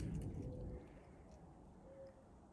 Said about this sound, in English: I hear the owl.